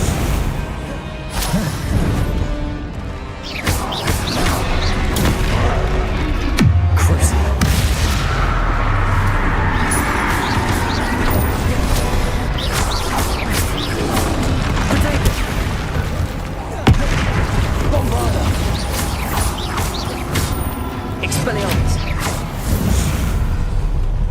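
Bombarda blasting spell explosions in Hogwarts Legacy, heavy booms and crashing impacts amid a dense, loud spell-combat din, with voices heard over the battle.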